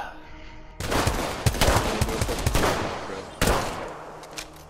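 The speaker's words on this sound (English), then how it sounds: "I can't hear over their shots." Enemy gunfire in Apex Legends: dense bursts of automatic shots and overlapping weapon fire begin abruptly and keep rattling loudly, with sharp spikes of near shots standing out.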